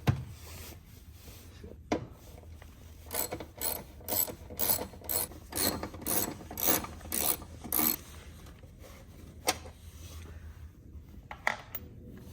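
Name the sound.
ratchet with 10 mm socket removing BMW 328i air box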